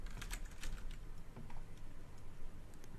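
Computer keyboard keys clatter in quick, irregular bursts of clicks while someone plays the shooter game Heroes & Generals, close and moderately loud with no talking.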